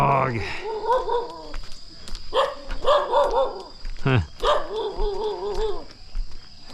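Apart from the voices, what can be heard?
dog barking at a Bali waterfall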